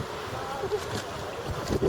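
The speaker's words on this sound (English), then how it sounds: "It's a wee bit windy today for snorkeling." Wind blowing across a white coral-sand beach on Lifou island, a steady rushing buffet with microphone wind noise and a few stronger gusts, close and continuous.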